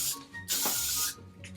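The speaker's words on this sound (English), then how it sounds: "spray the root" Hairspray shoots from an aerosol can at the roots of a drag updo wig, giving one steady hiss of about half a second with a softer spray just before and after.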